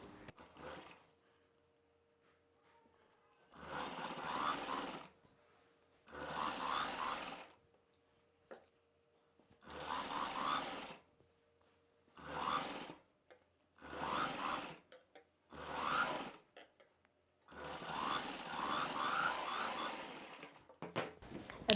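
Sewing machine running in about eight separate bursts of stitching on an umbrella dress at the neckline, each a rattling, buzzing run of a second or two, with near silence between runs; close and clear, with no voices.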